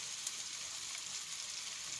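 A seafood paella with assorted meat and legumes cooking in the pan, a soft, steady sizzle with faint crackles, quiet and without talking.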